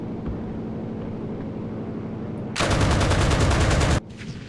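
Anti-air guns in the video game Enlisted open up in a loud, rapid burst of automatic fire lasting about a second and a half, cutting in over a lower engine drone and then stopping abruptly.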